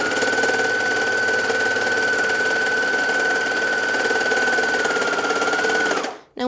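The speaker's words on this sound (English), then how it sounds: "if you're using your sewing machine to finish these edges" A sewing machine runs steadily while stitching along fabric edges to finish them, holding a loud, even motor whine for about six seconds before stopping abruptly.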